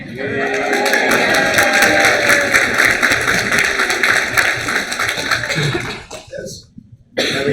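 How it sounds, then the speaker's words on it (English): An office audience at an agency training session claps continuously for several seconds, dense and close, with a few coughs and murmurs mixed in before the clapping cuts off abruptly near the end. "I don't know why you're clapping"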